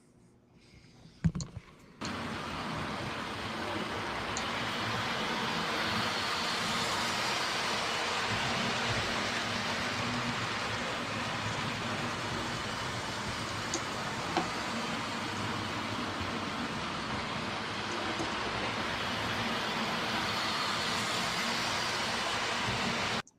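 Model railroad train running along a track past a crossing signal, a steady broadband rumble and rattle that holds evenly for about twenty seconds after a brief clatter at the start, with no talking.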